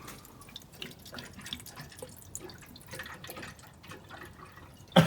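Water drips and trickles into the cooling system of a Volvo 340 engine with soft splashing and gurgles, a small irregular flow into an enclosed space, fairly quiet, ending in a brief louder knock.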